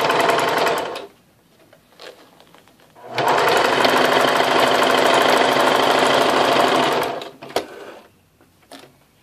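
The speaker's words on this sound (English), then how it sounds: "And I'm going to sew." A domestic sewing machine runs close by, stitching a plain seam in fabric in two rapid, steady mechanical runs, a short one and then a longer one of about four seconds, with quiet handling sounds between and after.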